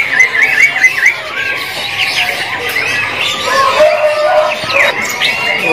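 A cucak tungkok songbird chirps at a bird kiosk. It gives bright, loud trills and twittering phrases, close by, with shop background noise and other sounds mixed underneath.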